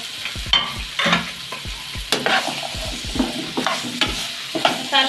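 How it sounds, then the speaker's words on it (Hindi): Okra frying in masala in a pot for a mutton stew, with steady close sizzling and repeated spoon stirring and scraping clatters throughout, no talk. "अब मैं इसमें भिंडी डाल दूँगी। इसको जो है 4-5 मिनट फ्राई करेंगे इसमें भिंडी को।"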